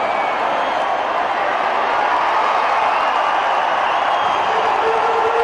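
Stadium crowd roaring and cheering as the Brazil national football team steps onto the pitch for a training session with Neymar, a dense, steady wall of noise with scattered clapping throughout.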